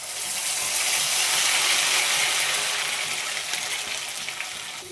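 Ginger, onion and green chili paste sizzles steadily in hot oil, a dense bright crackle that stays loud and close throughout with no voices over it.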